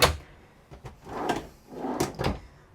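A storage drawer in a camper or motorhome ensuite slides open and shut, giving several brief knocks and rolling clicks in quick succession, fairly close and moderately loud, with no voices.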